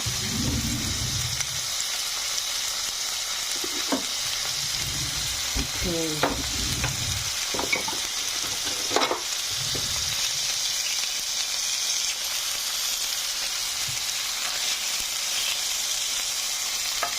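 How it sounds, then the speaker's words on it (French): Salmon fillets frying in butter in a pan give a steady close sizzle with soft crackles and brief stirring or scraping noises throughout, no voices. "Maintenant, je cuisine le poisson, le saumon."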